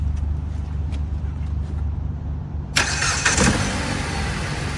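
A car engine cranks and fires up partway through, after a low idle-like rumble, turning into a louder, broadband running roar with a brief surge as it catches during a diagnostic check.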